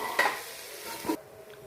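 Curry leaves, fenugreek and chopped onion being stir-fried together in a pan, with a couple of spoon scrapes and clinks over a soft sizzle in a short, close take.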